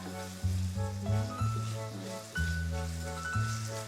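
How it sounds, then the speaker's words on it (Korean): Garlic, potatoes and bacon sizzle and crackle steadily as they stir-fry in a hot pan over medium-low heat while tuneful background music plays throughout. "마늘, 그다음에 이제 감자, 베이컨을 넣고 이렇게 볶는 거야"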